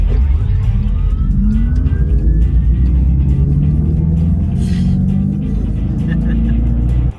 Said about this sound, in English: Here's the power shot sound.